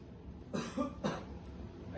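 A father coughs in a domestic drama scene, two short separate coughs a half-second apart, close and fairly quiet against a soft background hum.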